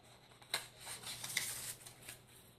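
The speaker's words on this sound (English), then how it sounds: "So I shuffle these back in the deck." Pokemon trading cards are shuffled back into a deck, a quiet series of soft papery riffles and flicks in short bursts close by.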